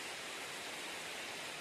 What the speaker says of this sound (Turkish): piknik alanından geçen suların kayadan düşerek oluşturduğu küçük bir şelale